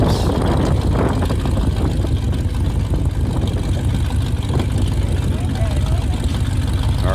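A land speed race car on a dry-lake course during an SCTA meet roars steadily through the timing traps, a continuous loud engine drone with an announcer's voice over it.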